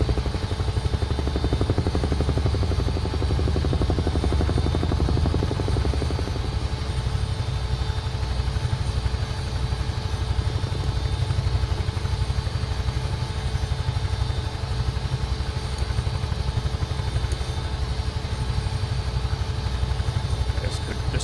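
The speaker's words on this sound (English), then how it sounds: "Huey's good fun flying around at low level and practicing firefighting with the Bambi bucket." A Huey helicopter flying at low level, its engine and rotor making a continuous, steady drone with rhythmic blade chop for the whole stretch, close and loud with no talk.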